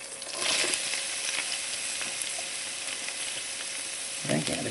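Cabbage fries with pork bacon in a pan in a loud, dense, continuous sizzling hiss up close, with a couple of brief stirring scrapes and no voices.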